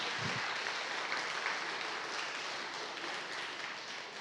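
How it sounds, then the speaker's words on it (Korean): Church congregation at a Sunday service applauding to welcome a newcomer, a steady, fairly faint wash of clapping that holds evenly throughout. "잠깐 일어나시면 우리 박수하겠습니다"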